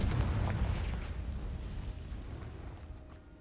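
A Confringo fire spell from the Hogwarts Legacy video game bursts with a loud, boomy explosion that rumbles heavily and slowly fades over a few seconds, with no speech.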